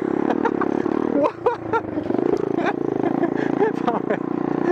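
A motorcycle engine drones steadily with rattling and clattering from a rough ride, while someone talks excitedly over the noise.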